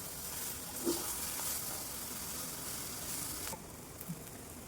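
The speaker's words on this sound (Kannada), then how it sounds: "ಅದನ್ನ ಆ ಬಾಣಲಿಗೆ ಹಾಕಿ ಅದೆರಡೂ ಚೆನ್ನಾಗಿ ಮಿಕ್ಸ್ ಮಾಡ್ಕೊಳ್ಳಿ" Cooked chana dal for sweet bonda being stirred together in a frying pan: a steady, quiet sizzling hiss with a few soft scraping stirs, close by, with no talking.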